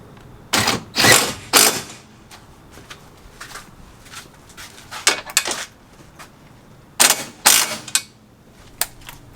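Metallic clicks and ratcheting bursts come from bolts being tightened while a Cusco brace is installed on a 2020 Toyota Supra. They arrive in short, close clusters separated by quiet pauses.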